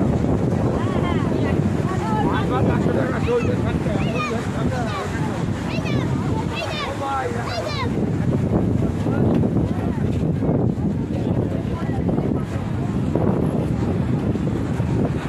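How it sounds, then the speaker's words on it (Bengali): Strong wind roars into the microphone on a Bay of Bengal beach at Digha, with crashing waves beneath, loud and continuous throughout while someone talks over it. "এখন প্রচণ্ড ঢেউ চলছে, প্রচণ্ড বাতাস।"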